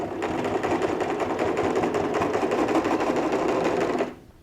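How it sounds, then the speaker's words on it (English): A sewing machine with an edge stitching foot runs a steady, fast stay stitch across a quilted cross-body messenger bag, a continuous close whirring with rhythmic needle clatter that cuts off abruptly near the end. "I'm going to go and sew a stitch and then trim the excess off"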